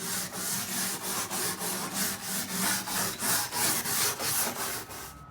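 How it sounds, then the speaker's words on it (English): A wire brush scrubs a weathered wooden deck during refinishing, in even back-and-forth strokes about three per second, a rough rasping rhythm heard close and alone. "we're going through with a wire brush and getting anything else"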